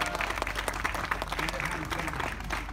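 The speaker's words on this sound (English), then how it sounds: "give him a big round of applause" An audience at a Bearizona animal show in Flagstaff, Arizona claps in a steady, dense burst of applause, close and full, with a voice heard faintly underneath.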